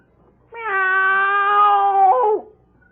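A voice in a radio drama imitates a cat with one long, drawn-out meow that dips in pitch at the end, loud and close.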